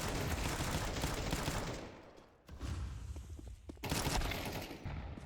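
Gunfire in a competitive Counter-Strike match: rapid bursts of shots fill the start, drop out briefly, then return as further volleys and sharp cracks, loud and close, with no speech.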